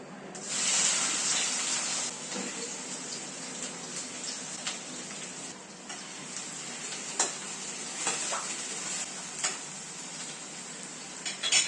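Finely chopped onions and garlic frying in a pan while making masala paneer; a steady, moderate sizzle with occasional stirring clicks and scrapes, no talking.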